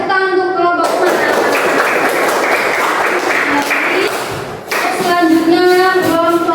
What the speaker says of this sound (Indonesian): Ya, tepuk tangan untuk kelompok Umar